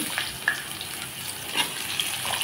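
Potatoes and taro fry in a pan with a soft, steady sizzle and faint crackles, quiet and close with no talk.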